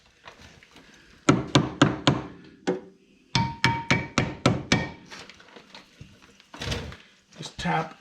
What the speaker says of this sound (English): Just tap everything to loosen it up.